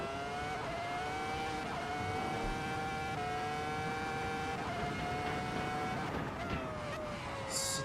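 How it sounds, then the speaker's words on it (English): A race car in the style of a Formula One machine screams through rising and shifting revs, its high-pitched engine note climbing, dropping at gear changes and surging again, loud and continuous on track. "It's a true F1 car. Just because of the sound,"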